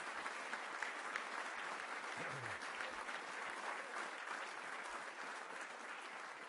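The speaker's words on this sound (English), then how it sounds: "So if we give a great round of applause to the President and the First Lady." Dignitaries at a gathering of the nation's governors give a round of applause for the President and First Lady, a dense, even, sustained clapping from a large indoor audience.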